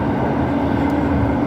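A light rail train running, heard from inside as a loud, steady rumbling drone with a constant mechanical hum and no distinct breaks.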